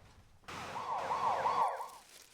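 An ambulance siren from a SaveVac emergency response to a 20-year-old man with a back injury from a fall, wailing loudly and nearby in a clear rising-and-falling sweep for about a second and a half before cutting off, with no talk.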